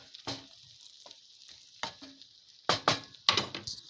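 Rice frying in a hot pan is stirred with a spoon, giving a steady sizzle broken by several scraping strokes that grow busier toward the end, close by with no talking.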